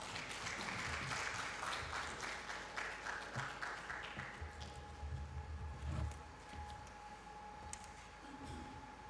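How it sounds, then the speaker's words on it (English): Audience applause at a national policy and investment dialogue, dense clapping from a seated crowd that is loud at first and then thins and fades, with a steady hum underneath. "Let's give Steve a bigger round of applause"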